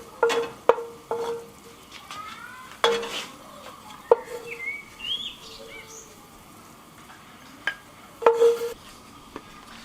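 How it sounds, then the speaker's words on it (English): Lamb meat searing in a pan after rosemary is removed, a soft steady sizzle broken by clattering scrapes and knocks of a utensil against the pan, with faint bird calls outside. "start searing the meat"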